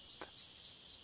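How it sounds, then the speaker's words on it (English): Cicadas drumming in the trees: a steady high-pitched insect buzz pulsing in four regular bursts, close and fairly loud, with no talk. "thousands of cicadas that think of nothing but playing the drum and getting drunk on tree sap"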